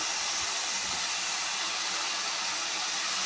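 Chopped curry leaves, coriander and tomato sautéing in a pan for a cauliflower fry, a loud, steady broadband sizzle that holds unchanged throughout with no voices.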